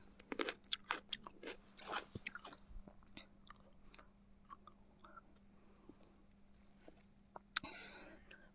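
Ripe, sweet wild blueberries are chewed up close, giving soft, irregular crunchy bites and wet mastication clicks that come in bursts and then thin out, all fairly quiet with no voices.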